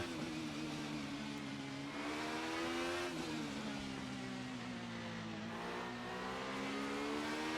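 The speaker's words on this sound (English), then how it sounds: "Always love the sound of this car." A 1990s DTM racing car engine in a sim racing video game at the Red Bull Ring drones steadily at high revs, its pitch dipping and climbing again as it shifts, close and loud with no voices.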